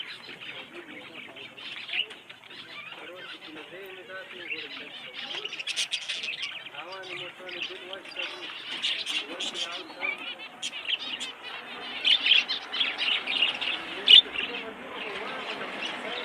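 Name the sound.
pigeons and birds chirping in a pigeon shop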